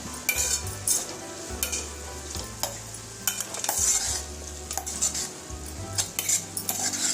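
A spoon scraping and clattering in a pot as food is stirred and mixed during home cooking for the Telangana Bonalu festival, with uneven metallic scrapes over a soft sizzle and no talking.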